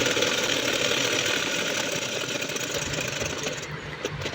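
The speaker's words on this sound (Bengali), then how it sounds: "বসিয়ে একদম যে দাগ বরাবর রয়েছে সেই দাগ বরাবর কিন্তু আমি সেলাইটা দিয়ে নিচ্ছি।" A sewing machine runs steadily along a marked line, stitching two layers of fabric together for a frock for a one-to-three-year-old child, giving a continuous, fairly loud mechanical whir with no talking.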